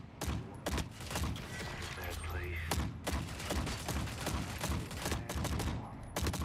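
Pistol fire in the shooter game The Forever Winter: a rapid irregular series of sharp, loud shots with thumping impacts, close and dominant over the whole stretch.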